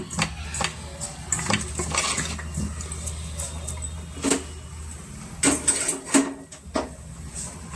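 Chakli dough being mixed with salt in a bowl, with scattered scraping and clinking hits against the bowl over a low steady hum, clustered near the start and again toward the end.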